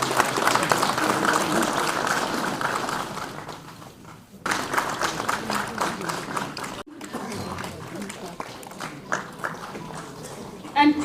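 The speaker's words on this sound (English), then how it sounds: "huge round of applause," Audience members at a World Craft Council function at SKICC in Srinagar clap in fairly steady rounds, interrupted by brief cuts and mixed with an announcer's voice over a loudspeaker.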